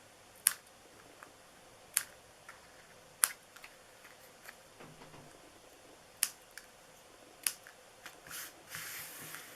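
Scissors snip while trimming paper pieces for a handmade scarecrow treat box, giving sparse, sharp clicks spaced a second or more apart, close and fairly quiet, with no talking.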